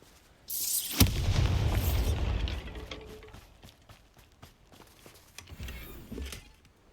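A Bombarda blasting spell explodes in Hogwarts Legacy: a sharp crack, then a heavy rolling boom that fades over a few seconds, with scattered debris and smaller impacts after it.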